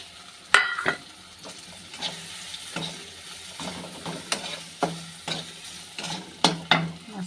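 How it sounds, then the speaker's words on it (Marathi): Masala being roasted and stirred in oil in a pan for a village-style ghevda (flat bean) vegetable curry: a steady sizzle broken by repeated sharp scrapes and clacks of a spatula against the pan, close and fairly loud, with no talking. "चांगला भाजून घ्यायचा परतून परतून घ्यायचा मसाला"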